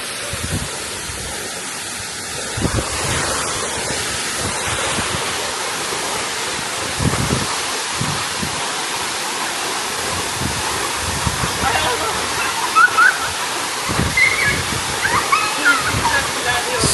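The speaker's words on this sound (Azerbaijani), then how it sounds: "Gedirlər şəlalənin dibinə." A waterfall roars steadily as people walk toward its base, a dense broadband rush of water that holds for the whole stretch, close and loud, with occasional voices underneath.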